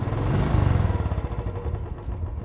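A 2020 Royal Enfield Classic 350 (BS3) single-cylinder motorcycle engine revs up from idle, a loud, close, throaty thump that rises and then settles into a steady pulsing beat.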